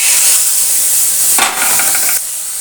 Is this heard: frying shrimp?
yes